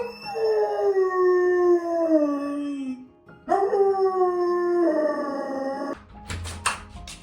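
A rescue dog with separation anxiety howls alone in long, sliding wails, two sustained howls close by and loud, then a few short yips and whimpers at the end.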